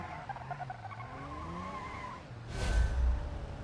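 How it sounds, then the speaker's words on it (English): Grandpa's pickup truck drifts in BeamNG.drive, tires skidding and squealing over a steady engine drone, swelling into a louder scrub of rubber near the end. "we are doing a bit of a drift in Grandpa's pickup truck"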